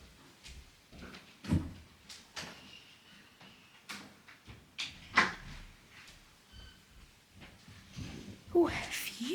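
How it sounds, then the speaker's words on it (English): A room door is pushed shut indoors, one of several short thuds and knocks scattered among quiet shuffling and a faint murmuring voice. "Let me close the door, I don't want to be disturbed."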